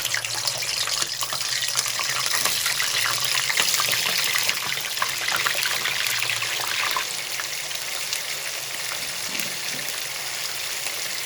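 One and a quarter kilos of chicken hit smoking-hot oil in a karahi, setting off a loud, steady, close sizzle that hisses on without a break and eases off only slightly toward the end.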